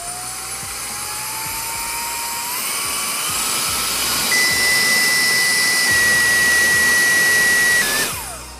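A small MECO Eleverde electric blower runs at full speed with a loud, high-pitched whine that climbs steadily as the motor spins up, holds a shrill steady tone, then cuts off and winds down at the end.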